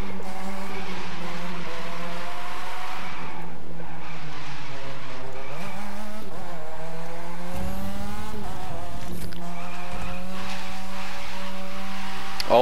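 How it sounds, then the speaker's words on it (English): A car drifts in a racing video game, its engine droning steadily as the tires squeal in long wavering skids, loud and continuous throughout with no talk. "Oh yes, look at this drift"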